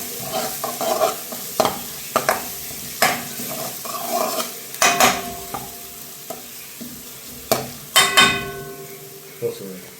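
Two sliced onions are sautéed in a pan, with loud, repeated scraping and clanking stirring strokes over a steady sizzle, close and busy throughout.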